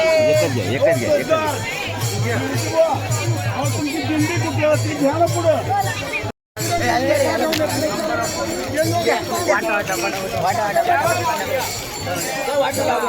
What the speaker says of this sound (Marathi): आणि बघा सिन्नरमध्ये किती गर्दी झालेली आहे